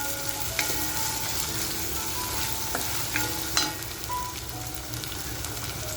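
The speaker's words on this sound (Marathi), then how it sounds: "कांद्याबरोबर फ्राय करून घ्यायचे" Onions and coriander stems fry in a pan with a steady close sizzle, broken by a few scraping stirs of a spoon against the metal, with no voices present.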